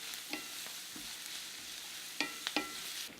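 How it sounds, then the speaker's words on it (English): Onions sauté in about a quarter cup of oil in a pot for masoor daal, a quiet, steady sizzle broken by a few soft scraping stirs of a utensil. "So about 1/4 cup of oil, and just saute until it develops a nice dark brown color."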